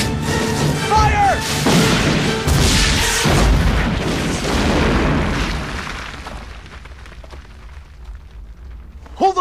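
Cannon fire in a dramatized battle scene, a run of heavy booming blasts and crashes over the first few seconds, loud and close, then trailing off into a quieter rumbling tail with a faint sharp pop at the very end.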